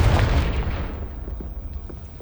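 The Confringo spell goes off as a deep booming explosion in Hogwarts Legacy, a single loud low blast that rumbles and slowly fades out.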